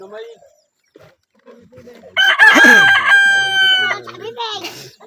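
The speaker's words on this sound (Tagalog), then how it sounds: "Nagtitilaukan na." A rooster crows loudly and close by, a long drawn-out call with other fowl clucking and crowing around it, after a quieter stretch of faint farmyard noise.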